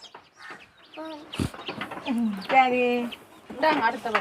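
Chickens and chicks cluck in bursts close by in Jaffna, mixed with people talking over them.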